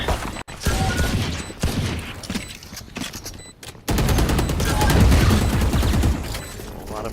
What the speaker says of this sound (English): A lot of firing through the Phoenix wall.